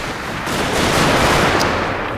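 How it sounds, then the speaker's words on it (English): Dense musket volley fire from massed units in Total War: Shogun 2, a continuous crackling rattle of overlapping shots that swells and holds steady and loud, with no talk. "because the units fire so quickly, these kind of firing things can get you killed very quickly"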